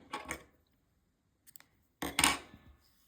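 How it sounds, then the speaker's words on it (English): Scissors snipping yarn while crocheting a small piglet, two close crisp cuts with a faint click between them in a quiet room. "All right, cut off the yarn."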